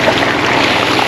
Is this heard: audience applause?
no